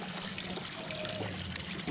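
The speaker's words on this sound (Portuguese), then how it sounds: "Vou colocar uma água aqui dentro, galera. Limpinha." Clean water is poured steadily into a small aquarium container being set up for fish, a soft continuous trickle and splash heard close but faint.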